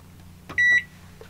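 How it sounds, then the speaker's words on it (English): A microwave oven heating water gives a short clunk and click, then a single loud electronic beep lasting about a quarter second, followed by a softer click, over a low steady hum. "put that in the microwave, give it about 3 minutes"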